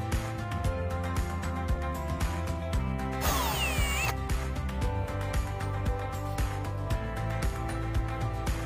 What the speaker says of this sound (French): percez-les plus profondément, mais pas complètement à travers le bois bien sûr